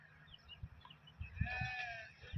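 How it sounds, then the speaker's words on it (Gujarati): Goats bleat in an open field during rainy weather, with a few short calls followed by a longer, clearer bleat at moderate distance over low background rumble. "આમાં બકરા છે"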